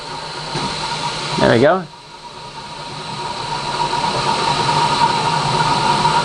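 A refurbished Verteq 1800-6 spin rinse dryer starts up for a short rinse cycle: a brief rising whine, then a steady mechanical hum that gradually builds and holds, with a short spoken remark near the start.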